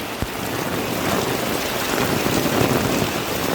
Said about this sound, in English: It's raining. It's very heavily raining